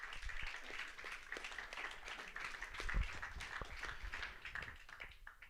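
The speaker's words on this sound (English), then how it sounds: "So give Paddy Murphy a big round of applause as well" An audience at a book launch about the families of Valentia applauds steadily, a soft, even patter of many hands that holds for several seconds before slightly thinning out.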